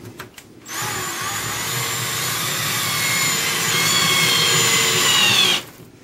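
A power drill drives a screw into a Venetian blind bracket in one sustained whirring run of about five seconds, close and loud, starting and stopping abruptly.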